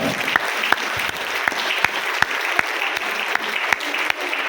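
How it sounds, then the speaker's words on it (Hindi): An audience at a company presentation in India claps steadily in a sustained round of applause, with occasional sharper individual claps standing out from the continuous crowd clapping. "जोरदार तालियां मलेशिया के नाम पर"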